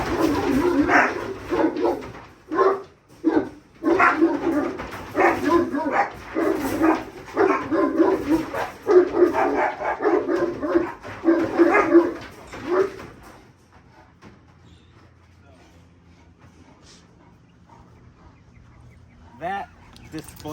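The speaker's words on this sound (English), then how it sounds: "the Danes were already barking as soon as they saw him getting ready to come out" Great Danes barking in repeated loud, close bursts for about thirteen seconds alongside another dog, with a bird clucking, then quiet with a faint sound near the end.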